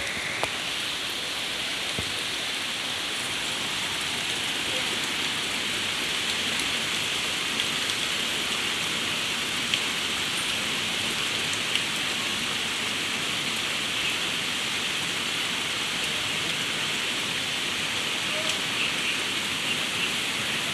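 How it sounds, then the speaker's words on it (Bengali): Heavy rain pours down in a dense, unbroken hiss that stays loud and even throughout, with no voices or thunder. "কি জোরে বৃষ্টির আওয়াজ হচ্ছে দেখতে পাচ্ছ?"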